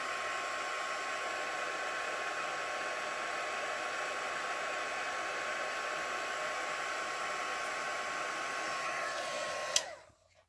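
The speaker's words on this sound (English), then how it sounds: "So I'm going to heat set this really quickly." Heat tool drying and heat-setting vellum in paper crafting: a steady, close blowing whir with a constant whine that runs unbroken, then clicks off and stops abruptly near the end.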